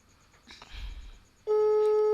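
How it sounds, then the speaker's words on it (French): A telephone line on a call sounds a loud, steady electronic tone that starts abruptly partway through, after a short stretch of faint background noise. "Ça sonne, on attend."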